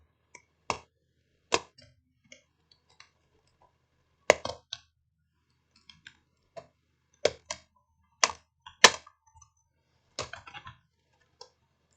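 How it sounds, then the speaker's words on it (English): Sharp, isolated plastic clicks and snaps come at irregular intervals as the keyboard is pried out of an Acer TravelMate P253 laptop, close up and with no talking. "Let's take out the keyboard."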